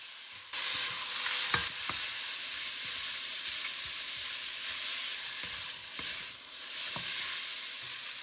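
Glass noodles hit a hot pan with browned white parts of green onions, starting with a sudden burst of sizzling that settles into a steady, moderate hiss with a few stirring clicks.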